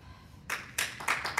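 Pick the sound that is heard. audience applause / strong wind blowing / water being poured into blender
audience applause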